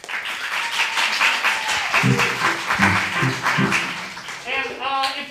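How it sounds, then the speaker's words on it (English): A crowd claps in a dense burst of applause, with voices calling out over it toward the end. "just a round of applause"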